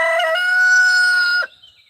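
A rooster crows once, loud and close, a sustained harmonic call lasting well over a second before cutting off abruptly into near silence, with a hen nearby.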